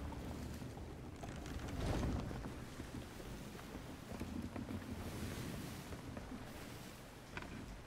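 Steady broadband wind and rushing sea wash while sailing a ship in Sea of Thieves, with a swell of louder water around the second mark and no talking.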